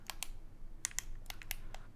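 Buttons are pressed on a cyberpunk-style handheld gadget, giving a quick irregular run of a dozen or so small, crisp tactile clicks, close up but quiet, with no speech.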